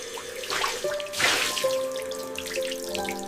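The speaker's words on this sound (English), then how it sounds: "She washes her face quickly." A bathroom tap runs while someone washes their face, a steady splashing water flow with drips and a louder surge midway, close and without speech.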